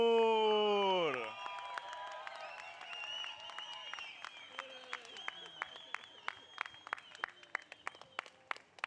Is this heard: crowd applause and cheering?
yes